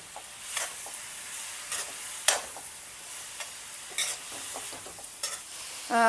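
Grated beetroot being stirred and roasted over a medium flame in a pan for beetroot halwa, a soft continuous sizzle broken by repeated scraping strokes of a spoon, close and fairly quiet with no voices.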